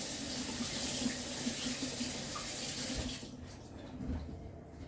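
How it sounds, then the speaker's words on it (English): A kitchen tap runs steadily as hands are washed of sugar under the water, a broad close hiss that thins out and quiets near the end. "I'm just going to wash my hands quickly because I've got sugar all over them."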